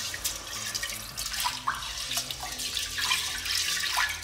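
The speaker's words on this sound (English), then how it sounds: "Go ahead and throw that rice into a pot. Wash all that starch off." Rice being washed by hand in a pot of water, with soft, irregular splashing and swishing sounds, close by and fairly quiet.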